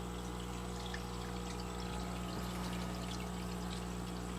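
Water pouring and trickling through a 55-gallon barrel filter, a steady continuous flow with a faint splashy texture over a constant low hum, close and alone without talk.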